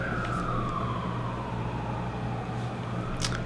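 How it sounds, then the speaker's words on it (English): An emergency vehicle siren wails outdoors, a steady falling tone over a constant rumble of traffic, moderately distant and heard alone without talk. "sorry, there's like a siren."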